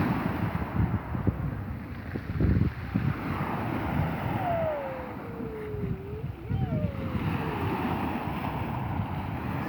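Sea surf washing onto the shore at Tsandripsh on the Black Coast, heard as a steady broadband rush mixed with gusty wind buffeting the microphone, continuous and fairly close throughout.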